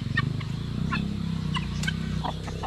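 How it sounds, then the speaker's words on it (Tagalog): A rooster on a farm gives several short, loud calls at close range, spaced out over a steady low background hum, with no one talking. "Yung tandang natin oh."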